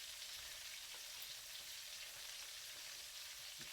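Chicken fries in a pan with a steady, faint, hissing sizzle that holds evenly throughout, with no voices.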